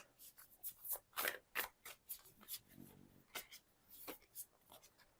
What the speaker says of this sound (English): keep shuffling a little bit